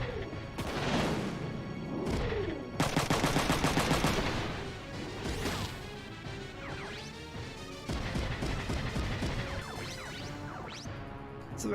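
Mechs fire weapons in Front Mission 3, loud crashing impacts and a rapid burst of automatic gunfire followed by further clattering hits and blasts.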